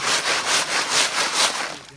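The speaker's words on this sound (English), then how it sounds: "take a big scoop and put it in a sifter, and sift all the sand out" Sand is shaken through a sifter while searching for fossils, giving a steady run of about five rhythmic, gritty rubbing swishes up close, each fading slightly before the next, with no talk.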